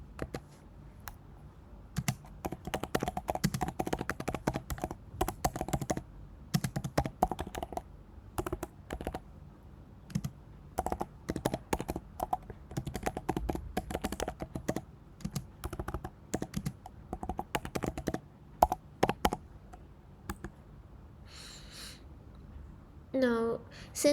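Keys clatter in irregular bursts as a command is typed on a computer keyboard for an NGINX deployment on Kubernetes with Minikube, close and fairly quiet, with short pauses between runs of keystrokes.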